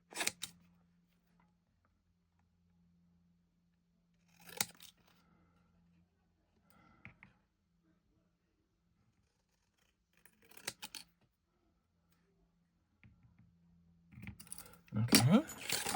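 Scissors snipping card pieces, a few separate short cuts spaced seconds apart with quiet gaps between, close and crisp, ending in a louder flurry of rustling.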